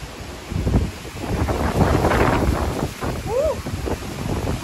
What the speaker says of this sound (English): It is still windy out here.